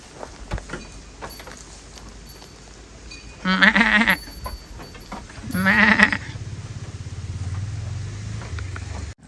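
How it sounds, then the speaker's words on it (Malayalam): Goats on a farm in Kannur bleat twice, about two seconds apart, loud and close over a quiet outdoor background, while a low hum fills the end. "ചെങ്ങായിമാരെ ആടിനൊക്കെ ഉണ്ടോ?"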